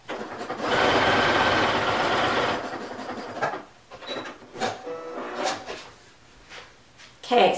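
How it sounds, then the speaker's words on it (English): A sewing machine stitches two ends of a thumbhole cuff together, giving a steady, close whir for about two seconds. It stops, and scattered clicks and fabric handling follow. "I am stitching these two ends together from the stitching to the lower end."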